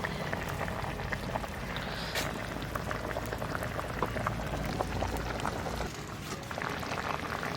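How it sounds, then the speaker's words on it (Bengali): Curry bubbling at a steady rolling boil in a pot, with fish pieces being added to the simmering papaya curry. The bubbling is continuous and close, with no talking. "এবার আমি মাছটা দিয়ে দেবো।"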